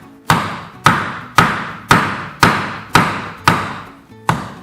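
Eight heavy, evenly spaced blows of a hammer driving a chisel into a wooden TARDIS base, each a sharp close thud fading quickly before the next, with no voices.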